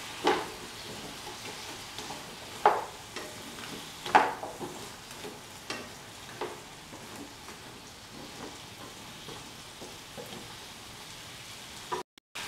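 A spoon scrapes and clinks around a pan of yam with black pepper and turmeric in irregular strokes, with a soft sizzle underneath; a few louder scrapes stand out early on.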